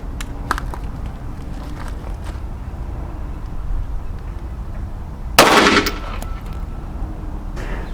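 A Sig P365XL pistol fires a single loud, sharp shot partway through, with faint scattered background noise before and fainter bangs trailing after.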